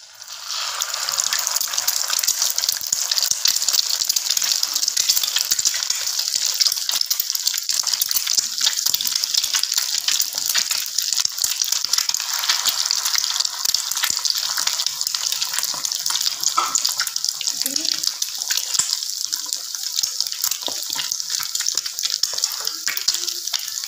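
Bread rolls coated and deep-frying in hot oil give a steady, loud sizzling crackle that runs continuously without any talking.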